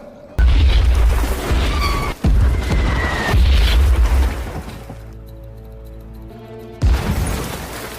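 A T-34 tank fires and explosions boom in a war film battle, loud heavy blasts with a sharp restart near the end, a dense low rumble throughout.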